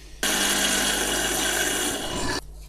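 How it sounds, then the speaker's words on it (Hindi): Whole and ground spices for qorma masala, with nutmeg and mace powder added, whirring loudly in an electric grinder for about two seconds, starting and stopping abruptly. "अब बस इसको हम फिर एक दफ़ा ग्राइंड करके इनको मिक्स कर लेते हैं"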